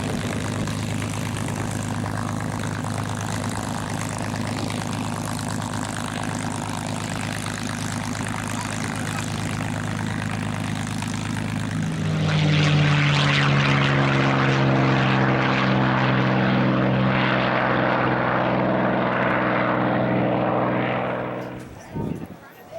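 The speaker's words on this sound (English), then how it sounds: "This is a Mitchell B-25 bomber." A B-25 Mitchell bomber with twin R2600 radial engines drones at a WWII aircraft tour stop at Greenville Downtown Airport, a broad steady roar that grows louder and deeper with a throbbing propeller beat before fading away.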